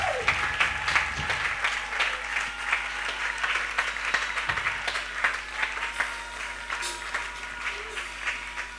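A church congregation applauds and claps steadily to acclaim the Lord during a morning service, a dense continuous wash of hands from a large crowd, with scattered voices calling out through it.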